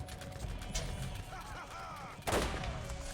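Sniper rifle shots in Borderlands sound over game background noise, with one sharp, loud crack standing out near the end after fainter earlier reports.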